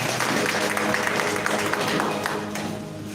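An audience at a Holi gathering applauds a music teacher with steady, dense clapping from many hands that holds throughout and eases slightly at the end.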